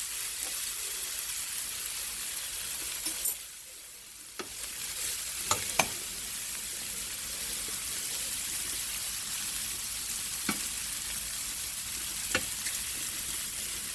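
Pork chops sizzle softly and steadily in a frying pan, with a brief dip in sound and a few sharp clicks and taps of a utensil against the pan spread across the stretch.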